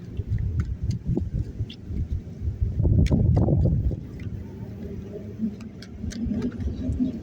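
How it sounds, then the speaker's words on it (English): Steady low rumbling wind buffeting the microphone for several seconds, gusting stronger in the middle, with faint clicks and knocks scattered through. "Since it's all windy and shit"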